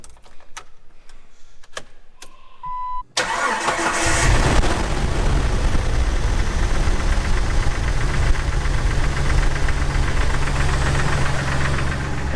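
A Jeep TJ engine cranks over and catches after a belt change, then runs loud and steady at a fast idle for several seconds, preceded by a few sharp clicks and taps.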